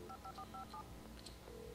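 Telephone keypad tones in the video game Alan Wake: a quick run of five or six short dialing beeps, faint and close, followed by a low hum and a soft click.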